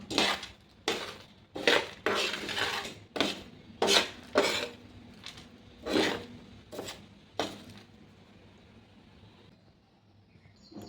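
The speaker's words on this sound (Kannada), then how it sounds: "ಇನ್ನೂ ಸ್ವಲ್ಪ ಎಣ್ಣೆ ಹಾಕ್ಕೊಂಡು ಕೈಯಾಡಿಸ್ಬೇಕು ನೋಡಿರಿ" Chutney powder being stirred with oil in a metal pan, a series of sharp, close scraping and clinking spoon strokes in an uneven rhythm, fading out toward the end with no talking.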